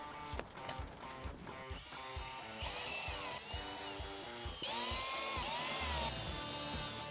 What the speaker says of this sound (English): So I've just drilled out all my holes there.